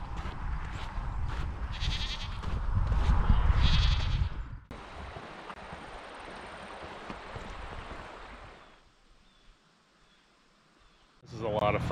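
Goats bleat loudly in a few close, wavering calls before the sound drops to a soft outdoor hush and then rises again.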